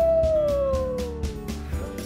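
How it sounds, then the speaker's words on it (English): A single long, sliding howl in the dark of night, coyote or wolf, falling slowly in pitch over two seconds above a rhythmic background beat. "they can hear coyotes or wolves howl in the dark of night"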